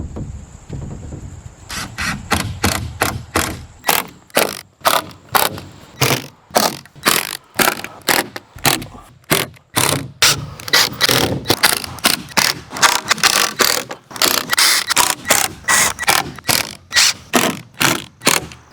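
A power driver sets screws into a shed wall panel, giving loud close bursts of rapid ratcheting clatter, many short runs in quick succession with brief gaps between, and no talk.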